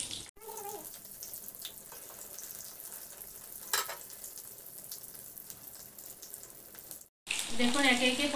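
Pointed gourds (potol) fry in hot oil in a wok, a continuous close sizzle with crackling bursts and a louder spattering burst at the end.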